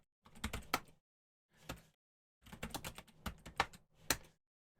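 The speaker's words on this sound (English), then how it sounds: "If I type my password right." Keys tapped on a computer keyboard while entering a password, quick clusters of light clicks in short bursts with brief pauses between, close and quiet.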